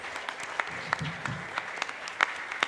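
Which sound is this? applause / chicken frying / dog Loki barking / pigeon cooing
applause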